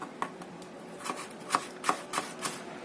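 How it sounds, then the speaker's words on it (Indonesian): A knife finely chops potato rolade ingredients on a cutting board, soft irregular taps that grow into a few crisper strokes, close but quiet with no talk. "Setelah dipotong panjang, kemudian kita potong kecil-kecil, setengah dicincang ya, jadi biar bisa matang."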